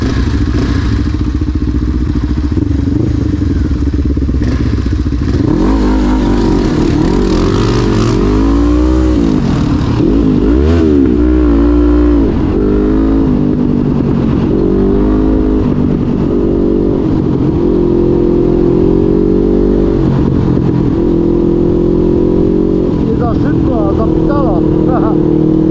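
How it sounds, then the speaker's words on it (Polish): A Honda CB500 motorcycle's exhaust rumbles loudly while riding, rising and falling with revs and gear changes close to the microphone, with occasional voices over the engine. "Przywali, to też słychać ładnie ten wydech."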